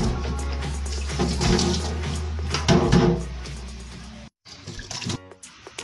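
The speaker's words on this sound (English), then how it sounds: "Next, I brush my teeth." Water runs steadily from a bathroom sink tap during a morning routine of tooth brushing, with a brief cut where the flow stops before resuming, close and fairly loud.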